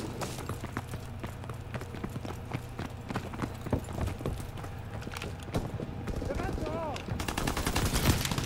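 Gunfire from the Call of Duty WWII multiplayer game pops in steady, rapid sharp shots over a constant low rumble of battle, moderately loud and close.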